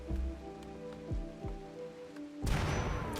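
Rain in the colony-building game RimWorld: a sudden wash of dense pattering hiss sweeps in after soft music and a few dull thumps, continuing to the end.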